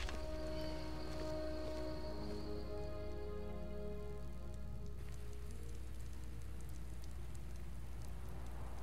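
Rain falls steadily in the Skyrim world, a soft hiss spread evenly through the scene, with sustained musical tones lingering beneath it for the first half before fading to mostly rain alone.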